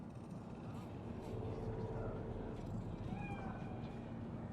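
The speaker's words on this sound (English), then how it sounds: "Fine-looking feline." A cat in the game Cyberpunk 2077 gives faint, thin meows over a heavy low hum of city ambience and droning engines, with quiet game sounds around it.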